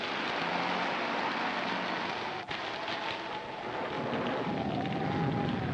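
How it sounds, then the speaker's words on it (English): Heavy rain pours steadily during a storm in a 1943 film, a dense hiss with a sharp crack partway through and a soft tonal line of music drifting underneath. "It's a lot of rain."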